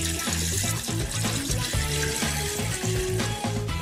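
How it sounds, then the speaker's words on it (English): Water pours steadily into a cooking pot holding octopus with peppercorns and thyme, a continuous splashing, gurgling stream close by and fairly loud throughout. "I'm going to add water until the octopus is just covered"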